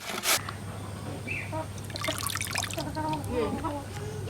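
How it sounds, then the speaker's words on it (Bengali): Cut pieces of taro (mankochu) being rinsed in water, with close splashing, trickling and dripping sounds and some clattering of the pieces in a steady, moderately loud wash. "এই যে কচুটা আমি এই কারণে ধুয়ে নিচ্ছি, কাটার কেটে নেওয়ার পরে আমি ধুয়ে নিচ্ছি"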